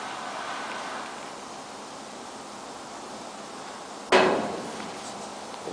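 A car's passenger-side door, its hinge set about midway in adjustment, swings shut with a single solid thump about two-thirds of the way through, following steady background hiss.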